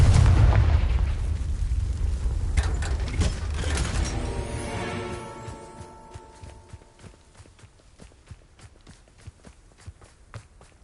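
A Confringo fire spell bursts in Hogwarts Legacy on PS4 with a loud, deep booming blast that rumbles and fades over several seconds. Crisp footsteps and small mechanical clicks follow.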